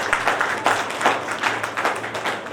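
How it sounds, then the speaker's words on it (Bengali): Crowd applause at a college reunion gathering, a moderately loud rippling patter of many hands clapping with uneven swells throughout. "আমি চাইব সেই কলেজের জন্য একবার জোরে হাততালি"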